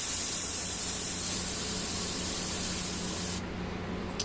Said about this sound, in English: So I've got yellow in my airbrush here. Got my pressure way too high.